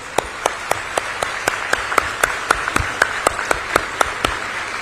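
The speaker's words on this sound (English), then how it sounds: "So please give them a big round of applause." Scattered audience clapping at a university convocation, individual claps sharp and regular over a soft crowd background, moderately loud with no talking.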